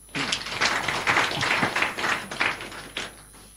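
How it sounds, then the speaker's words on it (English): Studio audience on a live talk radio call-in programme clapping, a ragged burst of hand claps and taps rising and falling over a few seconds, fairly close, with a faint steady electronic tone underneath. "Make we clap for him."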